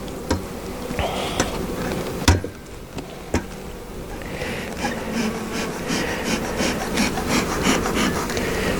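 Honeybees cover a hive frame being inspected, a steady low buzz running throughout, with a few sharp knocks and scraping rubs of wood close by.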